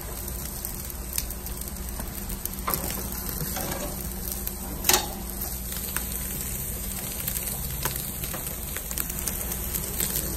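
Ribeye steaks searing on hot grill grates, a continuous crackling sizzle with scattered pops throughout.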